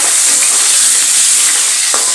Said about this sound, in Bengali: এবার আলুগুলোকে ভালোভাবে ভেজে নেব।